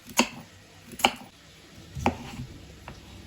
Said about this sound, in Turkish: Havucumuzu da şöyle iri iri doğruyoruz